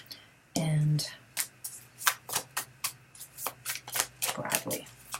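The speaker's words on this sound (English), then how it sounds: "So I'm shuffling till one card falls out." A deck of tarot cards being shuffled by hand: one quick riffle burst, then a run of crisp, close card flicks and slaps in an uneven rhythm, with faint whispering underneath.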